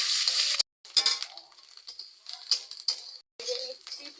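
Ground onion masala fries in a pan with bright crackling sizzle in short bursts, broken by brief pauses and a few light scraping stirs, close but fairly quiet.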